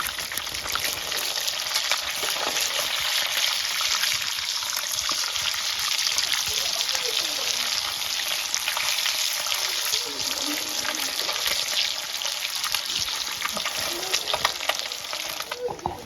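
Fish pieces fry in a pan for a Kashmiri-style fish recipe, a loud, steady sizzle and crackle that continues without a break from start to finish, with no talk over it.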